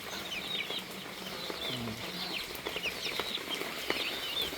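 Chickens on a provincial farm cluck and chirp softly while being hand-fed, with scattered peeps and light pecking over a quiet outdoor background.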